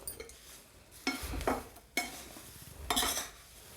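A kadhai of roasted poha chivda is shifted off the gas and set down, with a few scraping stirs and metallic clunks in separate bursts, close and fairly loud.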